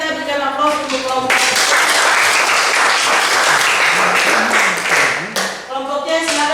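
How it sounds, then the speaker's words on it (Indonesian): Sustained applause from a class of students for a group, dense clapping that carries on loudly for several seconds before dying away, with a voice speaking just before and after. "kita berikan aplaus untuk kelompok"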